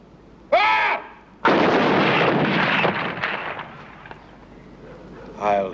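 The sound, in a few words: firing squad rifle volley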